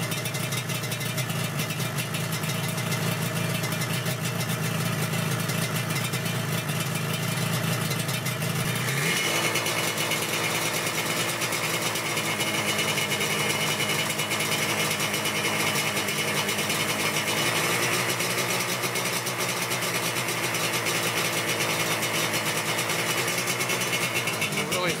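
A Yamaha RZ350 two-stroke motorcycle engine idles steadily on its first start after a resto-mod, running an oil pump with premix, a continuous near buzzing drone whose pitch shifts partway through.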